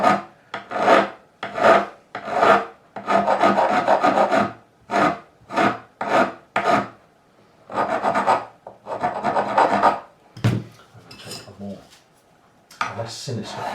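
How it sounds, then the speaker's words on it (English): A coarse file rasps against a fret end on a Fender Telecaster, cutting an angled bevel in repeated bursts of strokes, some short and some sustained, close and fairly loud, with a brief knock near the end. "So I'm going to take the coarse file, and my fingers underneath."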